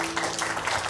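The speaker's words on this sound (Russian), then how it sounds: "Аплодисменты" Wedding guests break into a brief, close burst of applause that lasts under a second.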